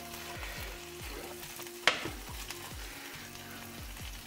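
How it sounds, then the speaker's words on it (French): Burger buns frying in butter in a pan, a steady soft sizzle with one sharp clink partway through, with no talk. "je vais essayer donc de rajouter une petite pointe de beurre et comme ça essayer de les faire revenir"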